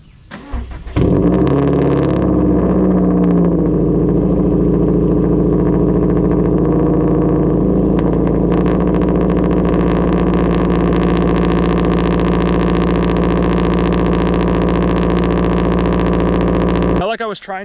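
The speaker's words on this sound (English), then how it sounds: "I filmed a cold startup for your viewing pleasure" A Subaru STI cranks and fires on a cold start, settling into a loud, steady, raspy idle that holds close and constant for over fifteen seconds before cutting off.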